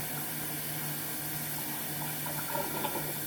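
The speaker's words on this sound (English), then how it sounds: "I have to turn this water off." A kitchen tap runs steadily as a constant hiss of flowing water into a sink, moderately quiet and unbroken, with no talking.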